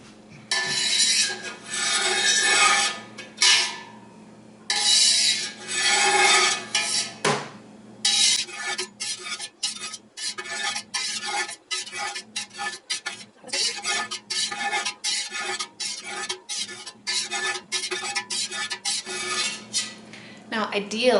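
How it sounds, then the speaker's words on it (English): A knife cutting fresh Monterey Jack cheese curds in a pot, with repeated close scraping and clinking strokes of metal against the pot, in bursts with short pauses. "Okay, let's cut some curds."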